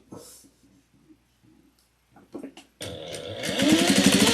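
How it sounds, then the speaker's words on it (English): Sewing machine stitching darts on a fabric bowl cozy, starting with soft scattered handling noises and then a steady, fairly close mechanical whir that climbs and hums continuously toward the end. "And we're just going to sew all the darts."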